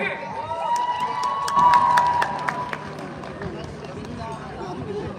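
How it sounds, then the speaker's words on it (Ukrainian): A crowd at a concert at Osocor Residence in Kyiv claps and cheers steadily, with shouts rising to a louder peak partway through and sustained voices and tones over the noise before it settles back. "Ваші оплески!"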